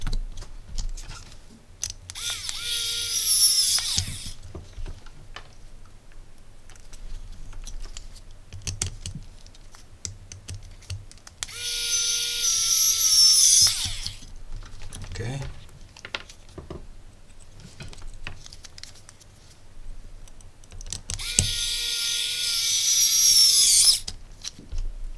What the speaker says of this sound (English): Much faster with this electric screwdriver.